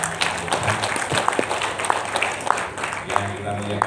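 Applause from an audience at a school anniversary ceremony rolls on steadily, moderately loud, while a person's voice is heard over it.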